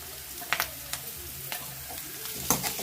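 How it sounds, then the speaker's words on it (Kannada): Onions fry in a pan with a quiet, steady sizzle, broken by a few sharp scrapes and taps of stirring, close and without talk. "ಸ್ವಲ್ಪ ಫ್ರೈ ಆಗಲಿ. ಈರುಳ್ಳಿ ಹಾಕ್ಕೊತೀನಿ ನಾನು."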